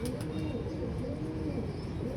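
On a rooftop, pet pigeons coo in low, rolling murmurs, close by and continuous, with a faint high chirp now and then.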